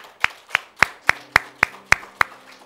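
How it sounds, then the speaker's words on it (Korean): Congregation members at a Korean church Sunday service clap in unison to bless those with birthdays, eight sharp, evenly spaced claps in a steady rhythm, close and crisp with little else around them. "박수로 한번 축복할까요?"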